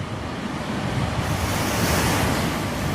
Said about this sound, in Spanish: La tormenta era terrible. Nunca unos ojos vieron una mar tan alta, tan terrible y llena de espuma.